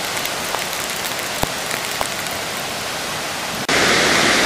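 Heavy spray from Victoria Falls showers down like steady rain, a dense continuous hiss close by that swells abruptly louder near the end, with no talking.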